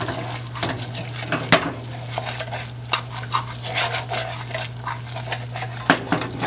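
Butter melting and bubbling in a pan over lowered heat, a steady soft sizzle with frequent scraping and clinking of a utensil stirring against the pan, close and continuous.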